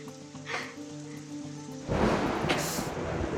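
In a Bangla TV drama scene, a soft tonal backdrop gives way midway to a sudden thunderclap and a loud, hissing downpour of rain that continues to the end.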